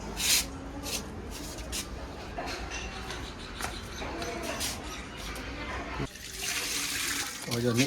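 Water being mixed into waterproofing compound while preparing a house for the monsoon: continuous close sloshing and wet stirring, with scraping bursts and a brief louder splash near the end.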